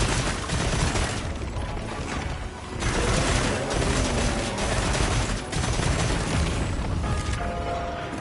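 Video game gunfire rattles in rapid sustained bursts with heavy booming reports, loud and continuous across the whole stretch, with brief gaps between volleys.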